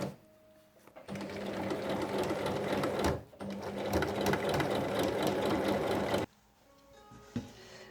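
A sewing machine stitches the base seam of a small fabric tote bag in two loud, fast whirring bursts, separated by a short pause, with quiet moments at the start and end.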